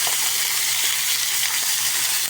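Butter sizzling in a very hot pan, a steady bright frying hiss with faint crackles throughout, close and unbroken, no voices.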